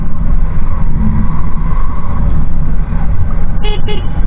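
A Honda SP 160 ABS motorcycle horn gives two short, close toots near the end, over a steady wash of engine and road noise.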